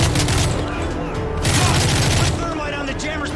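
Rapid gunfire bursts from Call of Duty: Modern Warfare 3 on Veteran difficulty, loud and dense, with booms and game effects running throughout the whole stretch.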